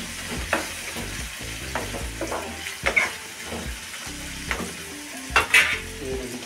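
Food sizzling in a pan while being stirred, with repeated scraping strokes and soft clinks of the utensil over a steady frying crackle, heard close up with no talking.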